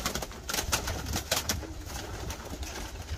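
A racing pigeon in Sweden cooing softly a few times against a noisy background.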